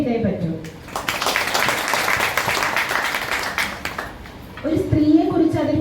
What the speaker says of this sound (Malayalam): നിങ്ങളത് നന്നായി ക്ലാപ്പ് ചെയ്തേ പറ്റൂ.